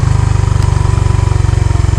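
A car engine runs under load while climbing a steep hill, a loud, close, rhythmic low-pitched throb pulsing evenly with no voices.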